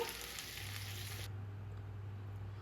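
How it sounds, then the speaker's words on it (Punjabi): Okra sizzles as it fries over a high flame, a steady close crackle that fills the first half and then drops away, leaving a low hum. "ਹਾਈ ਫਲੇਮ ਤੇ ਹੀ ਇਹ ਭਿੰਡੀਆਂ ਆਪਾਂ ਫਰਾਈ ਕਰਨੀਆਂ ਨੇ"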